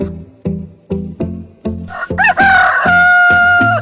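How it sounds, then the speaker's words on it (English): A rooster gives a loud, close series of short rhythmic clucks, then breaks into a full drawn-out crow that rises and holds to the end. "rooster"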